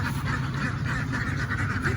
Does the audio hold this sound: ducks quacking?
yes